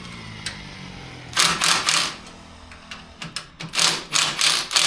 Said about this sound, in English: I'm going to use the bolt to drive it in a little bit